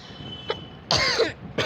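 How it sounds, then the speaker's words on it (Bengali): A sudden cough bursts out, a short throat-clearing rasp followed by a harsher, louder cough and a brief final hack, close and alone in a quiet room. "হঠাৎ করে কাশি উঠলো"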